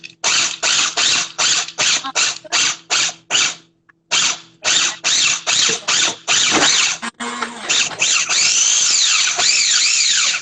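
A small food processor whirs in short, rapid pulses while chopping dates onto nuts, a string of choppy bursts with brief gaps before settling into one longer continuous grinding run.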